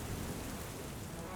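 Steady cold rain pours as a sound effect in a LEGO Lord of the Rings animation outside the Prancing Pony inn, a dense, even hiss with no breaks and no voices.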